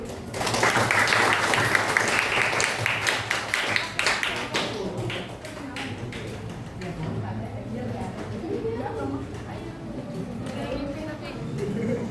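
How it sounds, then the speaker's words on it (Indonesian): Classroom audience applauding a student group presentation, a loud burst of many hands clapping that gradually thins into scattered claps and chatter as students talk over it. "Kita beri aplaus dulu."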